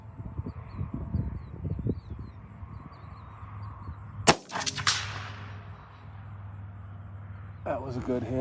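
A single sharp rifle shot cracks out mid-clip from a Savage 93 or Mossberg MVP in .17 HMR, outdoors with birds chirping faintly and someone talking before and after the report.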